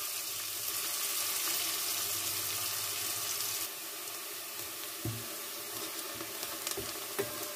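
Onions frying in an oil-filled pan until browned, a steady close broadband sizzle that drops slightly in level partway through, with a few soft stirring clicks and knocks later on.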